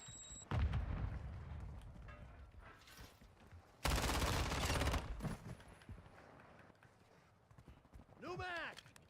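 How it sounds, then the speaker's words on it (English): Explosion of a thrown Semtex grenade and gunfire in Modern Warfare 3 multiplayer: a sharp blast, scattered shots, then a loud sustained burst of fire, followed by a rising whistle-like game effect, with speech mixed in. "Throwing Semtex."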